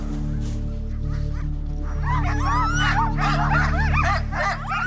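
Sled huskies at an Arctic kennel yipping, whining and barking excitedly in a rising chorus over a steady low mechanical hum, the pack growing louder and busier after the first couple of seconds.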